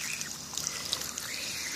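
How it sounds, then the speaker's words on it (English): Hot water from a garden hose runs steadily over hands in a rinse, a continuous close trickling and splashing with no talk over it. "But I just wanted to rinse my hands off right quick."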